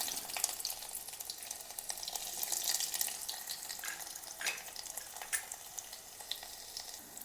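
Garlic hits hot oil in a pan for tempering a Maharashtrian yogurt curry, giving a soft, steady sizzle and crackle that stays quiet and close throughout.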